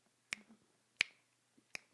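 Three crisp finger snaps spaced evenly apart, close and sharp against a quiet background, with no talking.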